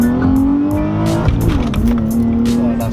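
An Infiniti G35 with a VQ engine accelerates hard and breaks traction, its loud, rising engine note joined by tire squeal and a brief dip as the wheels spin, heard from inside the car.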